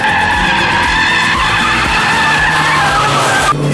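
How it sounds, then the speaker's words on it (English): A Skoda diesel car understeers through a corner on a test track, its tires skidding and squealing loudly and continuously over the engine roar. "Yes, quite a lot of understeer actually there."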